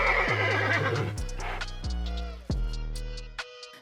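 Horses neighing and whinnying as a sound effect, several loud shrill calls rising and falling one after another, close and alone, ending in brief silence.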